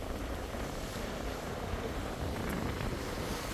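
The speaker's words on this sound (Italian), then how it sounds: "in camera ascolto questo vento e queste onde" Constant wind and rolling surf on Hawaii's wild north shore form a dense, steady roar with no distinct breaks, moderately quiet and without any voices.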